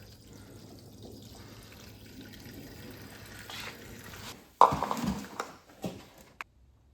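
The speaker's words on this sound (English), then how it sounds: "I hear the pump, and there we go. We're draining fuel into the container." Fuel from a 1997 Mustang Cobra is pumped into a container, a steady liquid rush and trickle running for several seconds before breaking into a few splashy, uneven spurts and then stopping.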